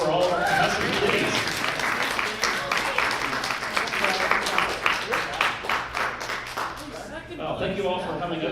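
Applause for the contestants at a Seaside Jeopardy game night at a furry convention, a dense patter of many hands clapping steadily for several seconds before thinning out near the end.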